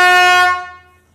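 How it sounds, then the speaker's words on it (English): An air horn on a 1951 Chevy truck gives one loud, close blast with a bright, steady tone that cuts off and rings away within about a second. "I decided to treat the old girl to a nice shiny air horn."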